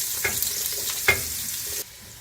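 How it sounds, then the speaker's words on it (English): Onion and pepper hit warm oil in a home kitchen pan while Guyanese-style dhal and rice are cooked, giving a steady close sizzle with a couple of sharp stirring clatters before the hiss suddenly drops away. "I'm going in with my onion and pepper here."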